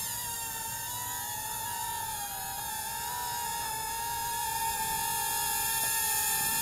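Small Cheerson CX-50 quadcopter drone with obstacle avoidance lifting off and hovering indoors, a steady high-pitched propeller whine with a shifting motor tone, close and continuous throughout with no talking.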